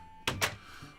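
A sheep in a video game gives a short bleat: two quick nasal pulses close together, clear and fairly near over a quiet background.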